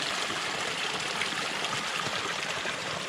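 A garden stream swollen by recent rain rushes and gushes steadily, a constant close broadband wash of water with no talk.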